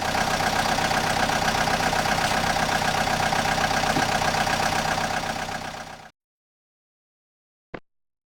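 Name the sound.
excavator engine running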